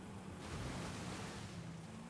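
In Forza Horizon 5 a heavy 450hp Buick Turbo or big-block Impala spec car ploughs through water. A continuous loud rushing splash and spray runs for the whole moment with no talking.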